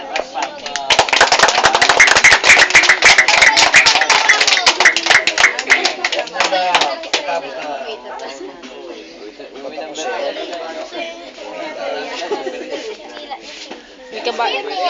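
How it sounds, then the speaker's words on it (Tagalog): A group of people clap together in a fast, loud burst of applause for several seconds that then fades, followed by voices chatting and laughing nearby. "Palakpak naman dyan, palakpak."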